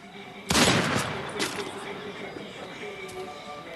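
A loud burst of gunfire from a mobile shooting video game erupts near the start and tails into a few lighter shots, with a voice talking over the game audio.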